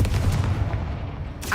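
Confringo blasting spell explosion in the video game Hogwarts Legacy, a loud booming burst with a thick low rumble that rolls on and fades, ending in a brief bright magical chime.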